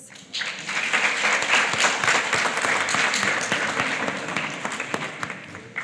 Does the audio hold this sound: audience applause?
yes